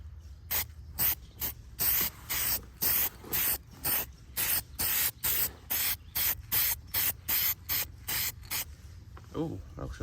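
Spray paint hisses onto a truck bumper in a long run of short bursts, about twenty rhythmic close-up sprays with brief gaps between them.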